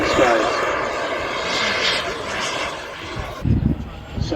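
Propeller engine of an aerobatic plane rolling rapidly over an airfield, a steady droning roar with throttle changes and a louder low burst near the end, with talk over it.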